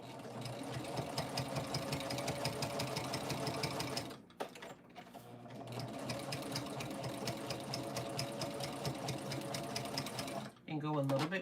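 A sewing machine stitches a quarter-inch seam on quilt binding, its fast rhythmic mechanical whir running steadily up close, pausing briefly midway before resuming, with speech heard over it.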